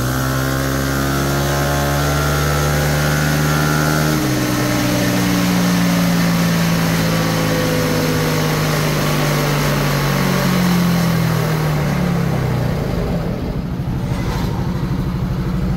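A Yamaha Aerox version 1 scooter engine revs hard on a dyno, a loud, continuous whine sweeping upward in pitch, then dropping and easing off near the end.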